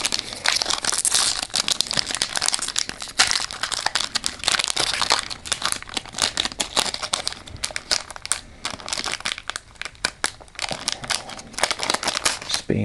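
A Topps Pokémon trading card booster pack is torn open, giving dense, continuous crinkling and rustling of the foil wrapper with sharp crackles throughout, close and fairly loud.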